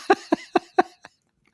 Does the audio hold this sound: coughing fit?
yes